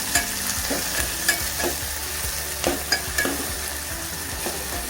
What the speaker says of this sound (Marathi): टोमॅटो पण थोडासा मऊ होईपर्यंत भाजून घ्यायचा